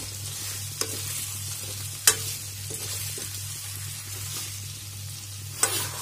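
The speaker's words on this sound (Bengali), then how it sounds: "ধুনীয়াকৈ লৰাব লাগিব" Chicken with ginger and garlic stirred in a kadhai: a constant close sizzle of frying, with occasional sharp scrapes and knocks of the spoon against the pan.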